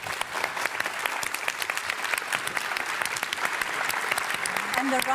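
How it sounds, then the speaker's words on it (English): An audience at a Festival of the New European Bauhaus session at Gare Maritime applauds its speakers, with dense, steady clapping throughout that swells slightly toward the end. "A round of applause for our speakers."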